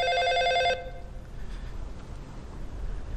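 A telephone bell rings loudly in one short burst of rapid trilling that stops abruptly, leaving a quiet indoor room tone.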